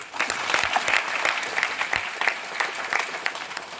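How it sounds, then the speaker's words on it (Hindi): A crowd at an RCM Star Ruby meeting class claps together, a dense, steady burst of applause that carries on evenly throughout. "एक बार ताली बजाइए।"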